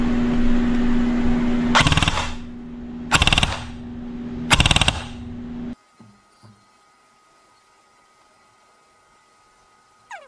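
An ICS CXP ARK airsoft rifle fires three short full-auto bursts, loud and close over a steady whirring hum, followed by near silence and a couple of faint knocks.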